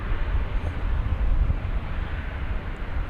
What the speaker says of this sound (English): the Japan Airlines A350-1000, whatever caused it to return to the gate has been rectified, and it is now on its way